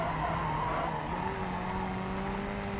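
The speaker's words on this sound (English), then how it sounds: "Drift it!" A car drifts with a sustained tire skid in BeamNG, a loud, continuous squeal over engine noise that holds for the full few seconds, close and steady.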